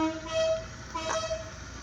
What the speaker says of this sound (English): And a train horn on the Ford Escort.